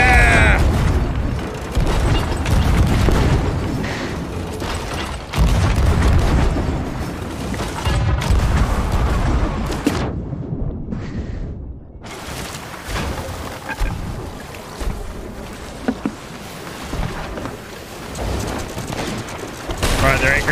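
Cannon fire and naval combat in the pirate game Sea of Thieves, dense booming blasts and clattering impacts in rapid succession, loud and continuous with voices talking over the action.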